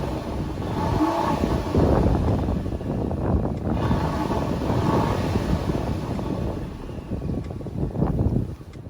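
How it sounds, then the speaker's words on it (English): A 2015 Ford Taurus SHO engine revs close by, its pitch rising and falling in several loud pulls with some wind buffeting, with no talking. "Let's give it some revs,"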